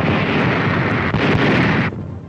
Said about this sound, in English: There's the naval station at Bizerte, being pounded by American shells.